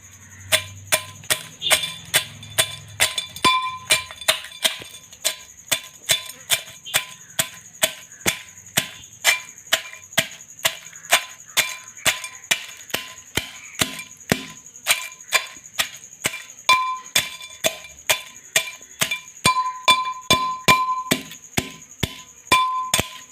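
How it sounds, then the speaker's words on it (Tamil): Cleaned crab being pounded for a Batticaloa-style Sri Lankan crab soup, a long run of sharp, evenly spaced thuds that continue steadily for over twenty seconds, close and clear, with no talking. "க்ளீன் பண்ணி வச்சுருந்த நண்டையும் இடித்து எடுத்துக்கலாம்."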